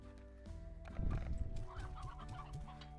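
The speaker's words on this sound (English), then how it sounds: "There's just so many chickens, man. Chickens, another chicken." Chickens clucking in a ranching video game, several quiet overlapping clucks and murmurs against a steady low background drone, with no one speaking.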